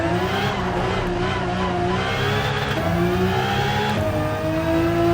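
Gran Turismo 7 racing game audio of a 2005 NISMO R34 GT-R Z-tune, its engine droning loud and steady with harmonic pitch steps as it downshifts, plus faint tire noise, no voices.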